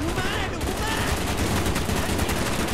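Dense, sustained automatic gunfire and battle noise from the Call of Duty Black Ops campaign fill the whole stretch at steady high loudness, with no pause in the barrage.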